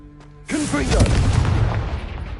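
After a quiet moment, a Confringo blasting spell in Hogwarts Legacy bursts into a sudden loud boom, followed by a sustained rumbling, crackling blast that lingers close and dense for nearly two seconds.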